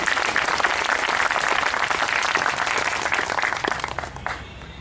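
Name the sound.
audience clapping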